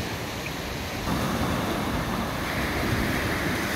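Sea waves roll and break continuously on the southern beach at Kiten, a loud broadband wash mixed with wind buffeting the microphone, swelling slightly after the first second.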